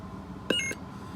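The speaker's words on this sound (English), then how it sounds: "you have mute mode where you press and hold for the first beep" A lightsaber hilt gives one short electronic beep as it switches into mute mode. The tone is clear and close and lasts about a quarter second over a faint background.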